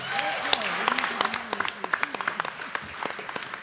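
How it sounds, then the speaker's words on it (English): At the close of a San Francisco reentry summit panel, the audience claps for the panelists. The claps are scattered and thin rather than a full ovation, mixed with a speaking voice, and grow more frequent toward the end. "Please give a round of applause to our panelists"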